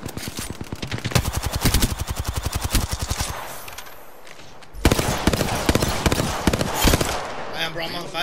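Automatic gunfire in the Apex Legends battle royale game, loud rapid bursts of shots through the first three seconds, a brief lull, then renewed heavy firing and impacts, with a character voice speaking over the action.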